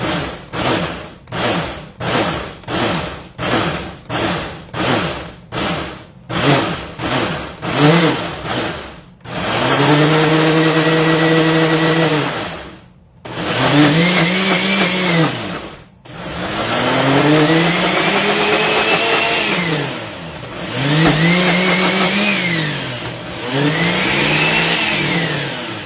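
A blender pulses a sea moss gummy mixture in a series of short bursts, about a dozen quick rhythmic pulses followed by several longer, loud whirring runs with brief pauses between them.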